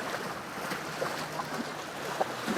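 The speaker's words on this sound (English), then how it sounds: "we are now close to, let's say, some waves" Ocean waves rolling in near the shore make a steady, broad wash of surf with a few soft swells and splashes rising above it, all fairly faint and mixed with light wind noise on the microphone.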